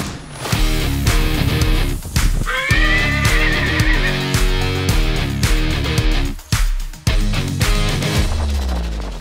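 Racehorses at a horse race in Jeneponto, South Sulawesi, give loud, wavering neighs and whinnies over a thick, sustained tonal backdrop that fills the whole stretch.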